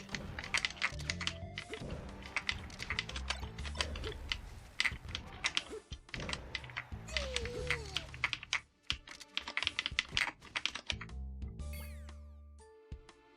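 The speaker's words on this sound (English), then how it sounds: "Now to test the keyboard" Keys clatter on a homemade Initial D keyboard controller in irregular bursts of close, crisp typing with brief pauses, while music plays quietly in the background.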